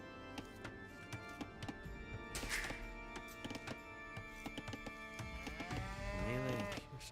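Cows in Age of Empires 2 let out a wavering moo near the end, set against game music and a busy patter of clicks, thunks and chopping-like taps.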